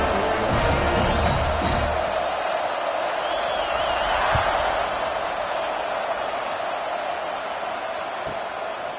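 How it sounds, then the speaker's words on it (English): The stadium crowd in a Madden football video game sends up a loud, sustained roar with some cheering, and a commentator talks over it as the noise slowly eases. "this crowd now ready to get behind them"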